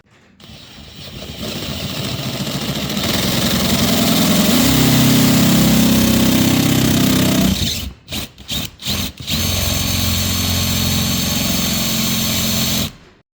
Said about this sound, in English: then what I'm going to do is drill through